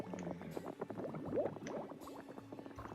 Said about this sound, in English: That is some noisy bubbling.